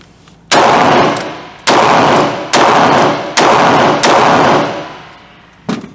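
A North American Arms mini revolver fires five rapid .22 Magnum shots: loud, close, sharp cracks at uneven intervals, each with a ringing decay, followed by a fainter final bang.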